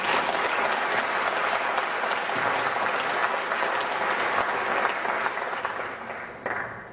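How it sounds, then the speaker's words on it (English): Sustained applause from a lecture audience, dense and steady clapping that fills the hall, fading slightly near the end. "join me in a round of applause for these two"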